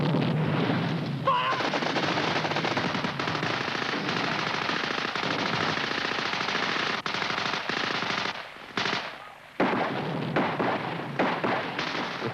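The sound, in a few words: army cover group opening machine gun fire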